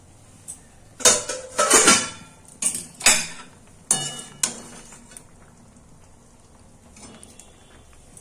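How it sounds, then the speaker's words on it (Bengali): Metal lid lifted off a cooking pot of simmering papaya chutney, giving a handful of clanking, clinking knocks in quick bursts, then quieter faint rattles and small taps as the pot settles, no voices. "এখন আমি ঢাকাটা সরিয়ে নিচ্ছি, দেখি কি অবস্থা।"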